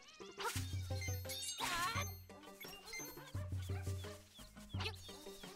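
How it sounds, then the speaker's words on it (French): Bouncy video game music from The Legend of Zelda: Link's Awakening, built from sampled animal calls, with cat meows and clucking squawks forming the melody over a thumping bass line, at low volume. "T'entends des chiens, des chats en fait pour faire la musique?"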